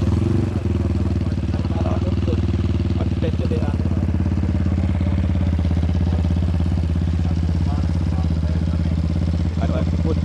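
Honda CBX Strada 250cc motorcycle engine idling steadily and close up, a low thumping rumble that runs unbroken throughout, with faint talk in the background.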